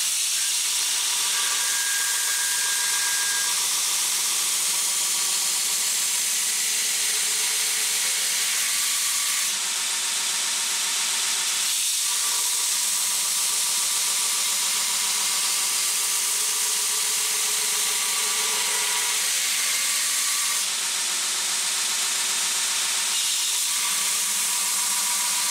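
A backstand belt grinder grinds a knife in a workshop with a continuous hissing abrasive rush and a steady motor hum, close and sustained, with brief dips and changes in pitch as the blade is repositioned.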